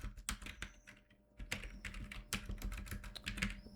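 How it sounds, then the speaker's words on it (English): Computer keyboard being typed on to enter a git command, a close series of quick irregular key clicks with a short pause partway through, then a faster burst, no voice. "And now if we type git log"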